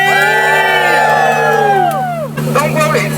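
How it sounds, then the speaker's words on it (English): An audience at a Disney dessert party show screams together, high wailing voices sliding downward before breaking into loud cheering and shouting. "Everybody scream!"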